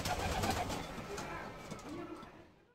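Gaditan pouter pigeons coo softly in a loft, their low throaty calls overlapping in a steady murmur that fades out at the end. Quiet, fairly close, with no clear talk.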